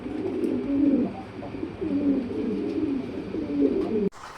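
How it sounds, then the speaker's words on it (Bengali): Pigeons coo in a loft on a farm, repeated low rolling calls up close in overlapping bursts, ending with a brief knock. "এই যে কার্বন কফি কার্বন কফির কথা বলছিলাম আপনি এ টু জেড সব একরকম এটা কবুতরটা"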